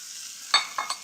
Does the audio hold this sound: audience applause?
no